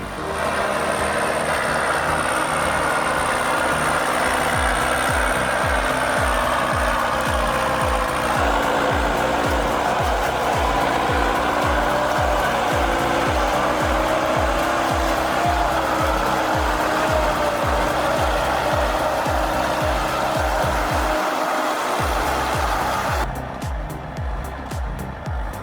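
An 810B articulated forestry machine, fully loaded, grinds through frozen muck with a loud, steady engine drone and a rapid regular mechanical pulse, continuous and close throughout.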